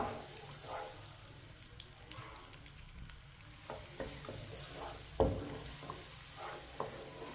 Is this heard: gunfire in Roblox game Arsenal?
no